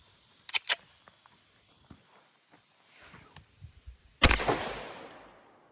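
Two sharp reports ring out early, then after a quiet stretch a louder 10mm 180-grain full metal jacket round is fired at a bulletproof backpack, a single crack with a trailing rumble and faint shuffling in between.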